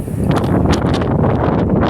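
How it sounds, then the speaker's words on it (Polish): Loud, steady gusting wind roars across the microphone on a rooftop pigeon loft, with buffeting rumble throughout and faint rustling in the background. "Ale wiatr jest straszny."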